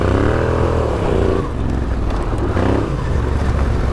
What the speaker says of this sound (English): it's very easy to get wheel spin, so it's a perfect gravel to do some drifting exercises